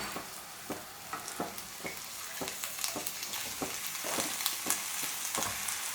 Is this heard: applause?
no